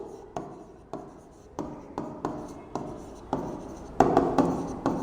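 A marker or chalk writes the ammeter resistance formula on a board, producing a steady series of short tapping and scratching strokes, close and clear, about one every half second.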